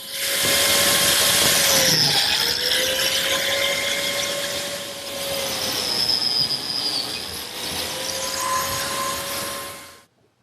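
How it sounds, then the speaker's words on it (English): Biscuit joiner cutting slots at mitered wood corners and along an edge, loud high whine with pitch sagging twice as the blade bites into the wood, then spinning down to silence. "I've laid out a biscuit slot at the miter and all along the edge. We'll cut the slots now."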